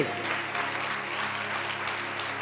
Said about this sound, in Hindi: ताली बजाइए यीशु के लिए